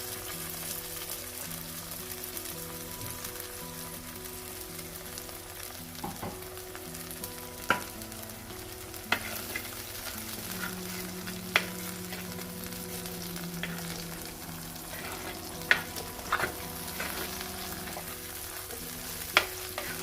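Masala with ginger paste frying for mushroom kurma, a steady close sizzle running throughout with scattered sharp clinks and scrapes of a spoon stirring in the pan, no talking.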